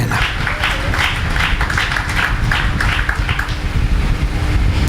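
A church congregation applauding after a scripture reading, a dense, steady wash of clapping that fills the room continuously from start to finish with no pauses.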